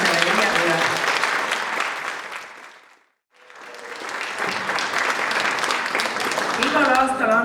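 A hall audience at an Estonian Independence Day concert ceremony applauds loudly and densely, fades briefly to silence, then swells back into strong sustained clapping.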